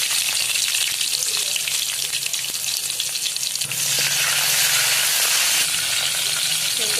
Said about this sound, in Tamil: இப்போ நம்ம இந்த பூண்டை சேர்த்துடலாம்